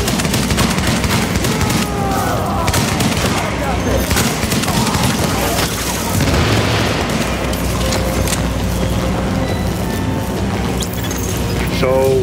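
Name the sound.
gunfire in a video game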